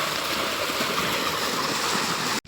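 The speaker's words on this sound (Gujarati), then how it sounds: "આ છે નદી. મસ્ત મજાનું પાણી આવે છે." River water flows past fields in a steady, broad rushing wash, fairly loud and unbroken, until it cuts off abruptly at the very end.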